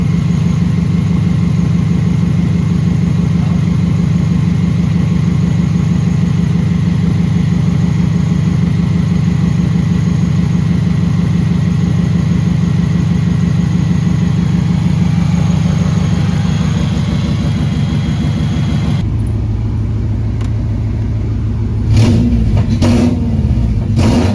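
A Subaru fitted with an engine bought on eBay runs steadily at a loud, even idle for most of the stretch, then the engine note drops away and a few short bumps and noises follow near the end.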